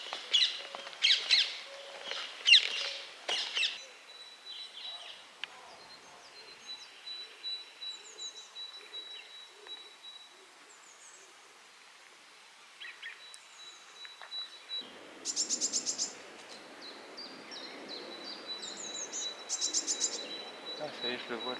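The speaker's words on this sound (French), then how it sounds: "Ah ça y est, je le vois, le truc qui fait du bruit. C'est quoi? C'est un oiseau." Small bird calling outdoors in early spring, a high thin sustained whistle with brief chirps, moderately near, over faint background rustle and scattered insect-like buzzing.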